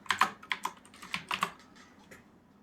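A password is typed on a computer keyboard in a quick run of close, crisp keystrokes. The clicks are irregular and fade to lighter taps at the end. No one talks.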